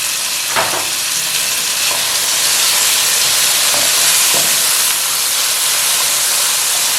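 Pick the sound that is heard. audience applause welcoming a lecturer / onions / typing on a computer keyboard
onions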